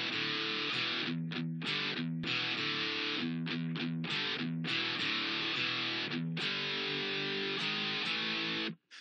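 Electric guitar plays the riff: choppy, palm-muted double stops with syncopated stops and restarts, loud and close, lightly distorted, with no talking.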